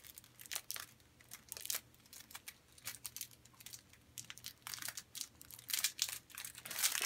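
Tempered glass smartphone screen protector kit being unpacked, with irregular bursts of crinkling and rustling plastic packaging close by, louder toward the end, and no talking.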